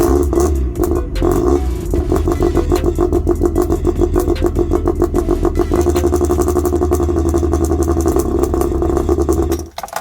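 Supercharged Mazda MX-5 Miata engine running loud and close for about ten seconds, a steady pulsing idle with mechanical clatter that cuts off abruptly near the end.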